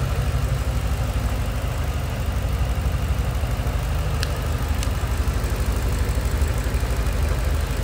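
A 2007 Ford Mustang Shelby GT coupe with a different throttle body idles steadily, a loud, close, even low rumble with a faint repeated ticking and no talk.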